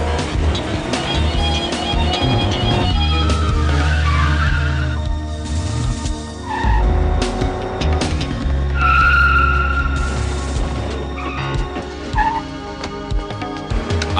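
Cars skid and squeal through a 1974 film car chase, with tyre screeches rising over rumbling engines and dense background sound throughout.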